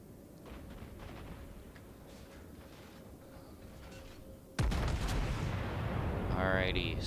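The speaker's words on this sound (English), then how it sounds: "The 3rd salvo out at the Wyoming." Warship main guns firing a salvo in World of Warships at low tier, quieter battle ambience and distant thuds before one sudden heavy boom that stays loud and rolling to the end, with some talk.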